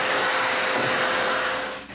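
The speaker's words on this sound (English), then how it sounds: "first I need to vacuum all of it" A vacuum cleaner runs steadily, sucking dust off a wooden dresser in a workshop, a close, loud whooshing whine that dips briefly near the end.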